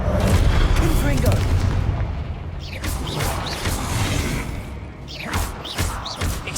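A Confringo blasting spell bursts in the Hogwarts Legacy video game, a heavy booming explosion up front that decays into rumbling debris and creaky clatter, followed by a few sharper cracking hits.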